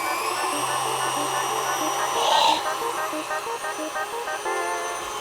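A new KitchenAid stand mixer creams butter and sugar with a steady, close motor whir and high whine that runs without a break.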